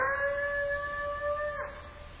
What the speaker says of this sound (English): So I may enter in a clip of the howling.